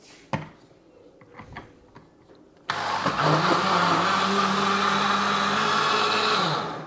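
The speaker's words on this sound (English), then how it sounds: "let's blend this up" A blender whirs loudly and steadily for about four seconds, blending lemon tart filling after a few quiet kitchen knocks and clicks.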